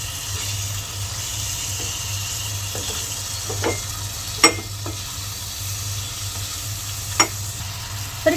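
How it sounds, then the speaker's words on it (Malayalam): Chicken pieces in a frying masala for chicken roast, a soft steady sizzle under occasional spoon scrapes and clinks against the pan, with a few sharper knocks near the end. "ഇനി നമുക്കിതിലോട്ട് ചിക്കൻ ഇട്ട് കൊടുക്കാം. ഇനി ഇത് നല്ലോണം ഇളക്കി ഒന്ന് യോജിപ്പിക്കാം."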